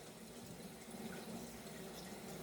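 A faint, steady stream of fuel pours into a side fuel tank, a continuous soft rushing that holds even throughout.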